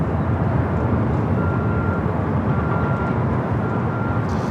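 A JetBlue jet airliner at LAX airport gives off a loud, continuous low roar that holds steady without a break, with no voices over it.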